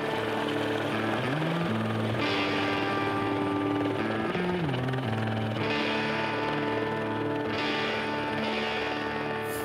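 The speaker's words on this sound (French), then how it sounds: "Ah ouais, Serge, amène l'hélico!" A helicopter arrives, its loud, steady rotor thrum holding throughout with shifting engine pitch as it draws nearer, no voices over it.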